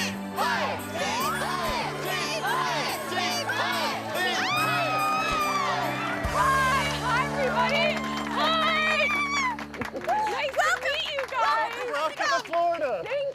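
Crowd gathered outside a Christmas-lit Florida home cheering and whooping, a lively, continuous wash of voices with shouts and children's cries, with some music-like tones running through it.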